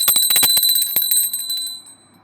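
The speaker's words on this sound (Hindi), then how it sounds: "हमें घंटी बजा देना है" A small brass puja hand bell rings rapidly several times, bright and close, then the metallic tone fades away into silence.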